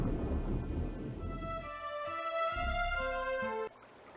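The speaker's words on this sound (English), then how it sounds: "Another severe thunderstorm, no!" A severe thunderstorm in the video game Oregon Trail 2 plays as a low rumble and hiss of rain, then gives way to a sustained synthesized musical tone sequence before cutting off.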